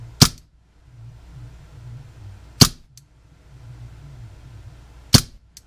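Umarex M712 CO2 BB pistol firing blowback action: three sharp, loud single shots spaced a couple of seconds apart, with quiet low rumble between them.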